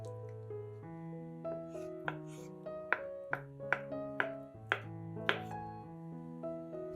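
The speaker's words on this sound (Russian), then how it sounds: "Четыре вареных яйца тоже нарезаем кубиками." Four boiled eggs are cut into cubes with a knife, producing around ten crisp, close taps on the board in a loose rhythm, heard beneath continuous background music.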